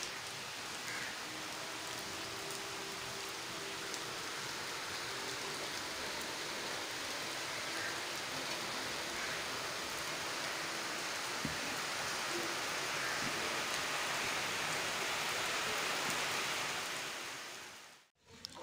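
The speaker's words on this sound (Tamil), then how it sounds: "இன்னைக்கு எங்கள் ஊரில் பார்த்தீங்கன்னா செம்ம மழை" Heavy rain pours steadily on a village morning as a dense, even wash of hiss, continuous and fairly close, with no voices, ending abruptly.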